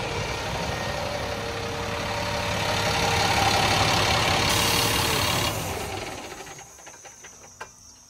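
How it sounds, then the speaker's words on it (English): LMTV military expedition truck converted to an overland RV, its diesel engine idling with a steady low rumble and hiss, then shutting down and winding into near quiet with a few faint clicks. "let me go turn the engine off"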